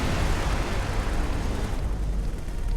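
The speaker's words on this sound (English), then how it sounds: "Explosion imminent." A deep, sustained rumbling explosion roars in the space game X4: Tides of Avarice, loud and continuous with heavy low-end boom throughout.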